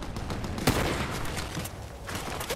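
Rapid gunfire bursts in the video game Fortnite, a dense fusillade of shots with one sharp louder crack early on, running continuously throughout.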